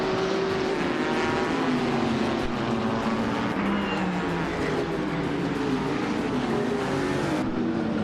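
Race cars roar together at the start of a race, a dense, loud, continuous engine drone with rising and falling pitch sweeps as they accelerate and jostle, with no voices over it.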